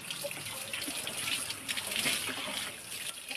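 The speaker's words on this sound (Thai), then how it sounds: "ล้างน้ำให้สะอาด" Food is rinsed under running water at a kitchen tap, a steady hiss and splash of flowing water with soft handling sounds mixed in, fairly close and continuous.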